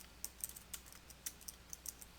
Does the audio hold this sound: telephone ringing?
no